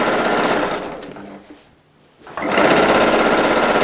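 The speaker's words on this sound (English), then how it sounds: "So I am quilting forward, but the quilt itself will reach back towards me." Sewing machine quilting a paisley pattern, its needle running in a loud steady buzz that slows and briefly stops, then starts again at full speed.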